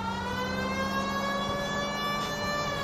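A police car siren in the video game L.A. Noire wails continuously and loudly, a steady harmonic-rich tone holding throughout with no talk over it.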